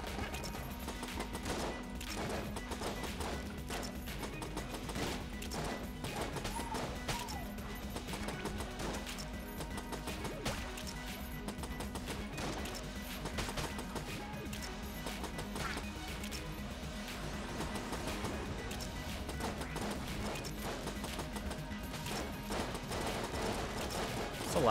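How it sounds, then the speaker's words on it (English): Continuous gunfire from enemies in the bullet-hell game Enter the Gungeon, with dense rapid shots and clattering impacts layered over steady game music for the whole stretch, loud and busy throughout. "People shooting at me here."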